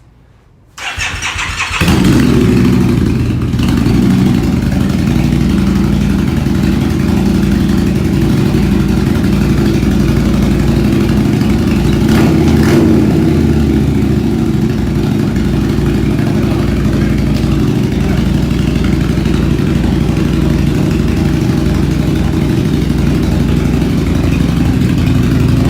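Custom Harley-Davidson Night Rod motorcycle with custom exhaust starts up, then settles into a loud, deep, rumbling idle that continues steadily at close range, with a brief blip of revving partway through.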